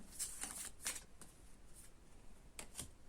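A Lenormand card deck being shuffled and a single card drawn: a few soft, brief papery flicks and slides, faint and close, with quiet pauses between them and no talk.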